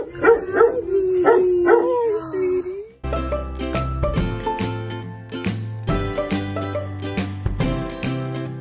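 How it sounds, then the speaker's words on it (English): A Labradoodle puppy gives a few high, yelping barks and whines close by for about three seconds. Loud music then takes over and buries the rest. "He is a Labradoodle"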